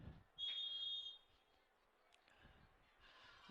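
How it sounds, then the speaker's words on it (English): A referee blows a single steady whistle blast of about seven-tenths of a second at a high school football game, the National Capital Bowl between Frontenac and St. Joseph, clear above the faint open-field ambience. "And there's the 3-minute whistle."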